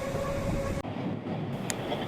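A red Bernina railway train heads toward the Brusio Viaduct, a steady rumbling roll of carriages heard from inside the last car, with a short break in the noise and a brief high squeal near the end.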